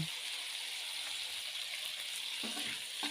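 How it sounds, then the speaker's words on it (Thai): Cauliflower florets and shrimp stir-fried in oil in a pan with light soy sauce, seasoning powder and sugar, giving a steady, close sizzle with occasional scraping clacks of a spatula against the pan. "ผัดต่อไปเรื่อยๆจนผักใกล้จะสุก"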